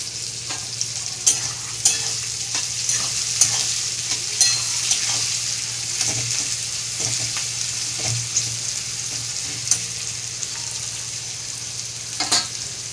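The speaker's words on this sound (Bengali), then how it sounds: "পেঁয়াজগুলো আমার লাল লাল করে ভাজা হয়ে গেছে" Salted onions sizzle steadily in a hot pan until reddish-brown, with occasional sharp scrapes and taps from stirring; no voices.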